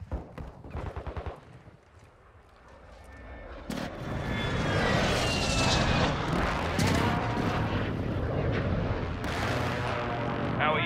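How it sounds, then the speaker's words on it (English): Precision airstrike in the video game Call of Duty Modern Warfare 2, with jet aircraft roaring overhead and heavy explosions and rapid gunfire building into a loud, dense barrage after a sharp blast partway through. "Friendly precision airstrike inbound."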